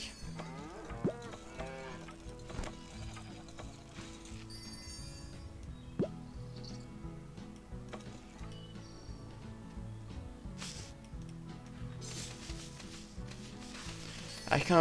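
Cartoon cows moo repeatedly in the farming video game Hay Day, layered over light plinking game music and small clinking interface sounds at moderate, even volume.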